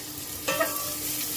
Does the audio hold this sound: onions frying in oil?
yes